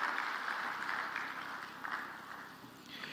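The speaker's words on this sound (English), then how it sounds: "Can we once again put our hands together?" Faint, steady applause from an audience at an official gathering, a soft continuous patter of many hands heard from a distance.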